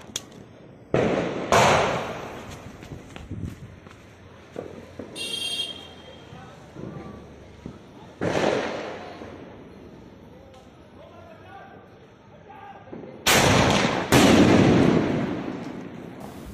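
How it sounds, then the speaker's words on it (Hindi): A Coke Golden Classic sky shot firecracker fires a series of sharp, loud blasts and crackling bursts spread across the stretch, with echoing booms in between and a voice talking at points. "सो गाइस अब जलाते हैं कोक के गोल्डन क्लासिक स्काई शॉट को"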